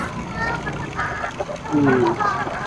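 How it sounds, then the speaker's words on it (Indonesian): Ornamental chickens cluck and squawk nearby, with short warbling calls rising over a murmuring background of voices. "Banyak banget ayamnya di sini."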